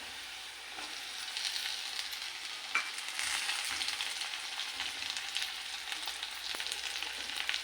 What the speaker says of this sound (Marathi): आता आपण टोमॅटो टाकूया वरून।